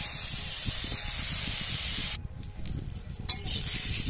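Potatoes fry in oil in a kadai with a dense, loud sizzle. Partway through, the sizzle drops sharply for a moment, as if stirred or lifted, then swells again.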